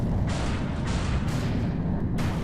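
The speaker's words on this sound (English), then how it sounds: "Oh, we got hit by the Magnapulse cannon." Magnapulse cannon fire in the Star Wars: Empire at War strategy game gives a loud, sustained roar of heavy blasts and rumble, continuous and dense without any break.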